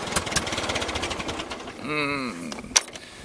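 A tractor engine starved of fuel chugs unevenly with a knocking, sputtering rhythm, close by, then briefly revs with a rising whine before settling back.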